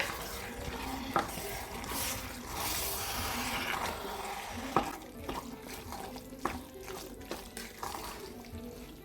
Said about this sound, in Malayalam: ഇതൊന്ന് മിക്സ് ചെയ്ത് കൊടുക്കാം നമുക്ക്.